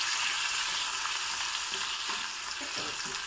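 Green peas sizzle and fry steadily in a pan of ghee for a South Indian breakfast dish, a constant close hiss with faint stirring clinks and no talking.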